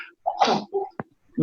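A single sharp sneeze close by, a short breathy burst with a quick snap at its end, set among brief vocal sounds.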